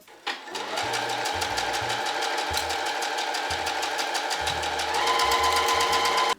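A sewing machine stitches a quarter-inch seam on a puffy cloud dress, starting up after a brief thump and running at a fast, steady rate, close and loud, with a slight speed-up near the end.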